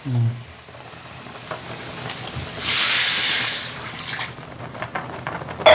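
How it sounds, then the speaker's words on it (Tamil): Water pours steadily into a pot for crab curry, a hissing rush that swells in the middle and continues under faint kitchen noise. "சரி தண்ணி ஊற்றிடலாம்"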